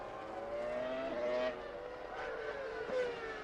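Formula One cars from the 2001 season, including a smoking Ferrari, scream past on track: high, whining engine notes that fall in pitch as they pass, moderately distant and repeating in waves.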